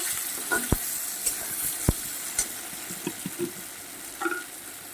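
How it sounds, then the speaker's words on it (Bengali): Chopped onions and tomatoes sauté in a pan with garlic, a soft background sizzle broken by several sharp clicks and scrapes of a spatula against the pan. "এখানে পেঁয়াজ আর টমেটো আছে ওটাও দিয়ে দেবো এবার এটাকে আমি সুন্দর করে কষাতে থাকবো"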